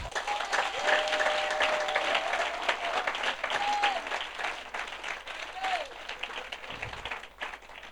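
A congregation applauds a speaker at a church gathering, dense sustained clapping over several seconds with a few faint whistles and crowd voices mixed in.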